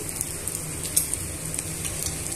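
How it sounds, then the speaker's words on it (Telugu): Chutney ingredients and curry leaves fry in oil over a low flame. The sizzle is soft and continuous, with small scattered crackles and pops, and no voices. "ఇవన్నీ కూడా బాగా వేయించుకోవాలి, దోరగా వేయించుకోవాలి"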